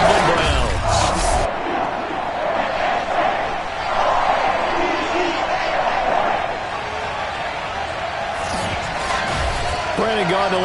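A Baltimore stadium crowd roars with sustained cheering before a Ravens versus Browns football game, a dense steady wall of noise with swells, heard alongside a commentator's voice.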